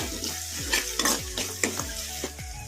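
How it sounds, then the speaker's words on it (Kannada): Tomatoes frying for a restaurant-style chicken masala gravy over a medium flame, with a steady sizzle and repeated scraping stirs of a spoon in the pan, close and clear. "ಈಗ ಮೀಡಿಯಮ್ ಫ್ಲೇಮಲ್ಲಿ ಇಟ್ಕೊಂಡು ಟೊಮೊಟೊ ಮೆತ್ತಗಾಗೋವರೆಗೂ ಫ್ರೈ ಮಾಡ್ಕೊಂಬಿಡೋಣ"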